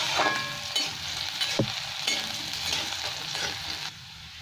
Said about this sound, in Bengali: এখানে 3টে শুকনো লঙ্কা, একটা তেজপাতা, পেঁয়াজটা একটু লাল লাল করে ভেজে নেবো